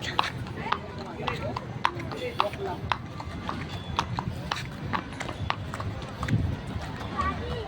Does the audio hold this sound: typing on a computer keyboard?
no